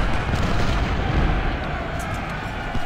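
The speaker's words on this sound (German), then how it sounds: "Kanonen, Feuer auf Anderson, Feuer." Cannon artillery fires in the Civil War strategy game Ultimate General: Civil War, a continuous rumbling barrage of booms and gunfire layered together at high loudness throughout.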